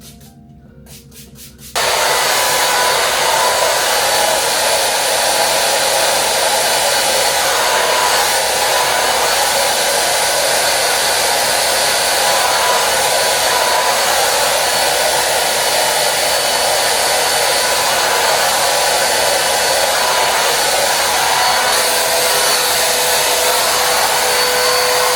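A handheld hair dryer blasts air onto hair with a loud, steady roar that switches on after a short quiet moment and runs continuously close by, with slight shifts as it is moved.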